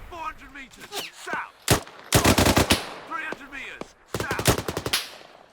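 Firefight gunfire in Arma 3 with Royal Marines: bursts of machine-gun fire and sharp single shots crack at close range, separated by pauses where voices talk over the radio.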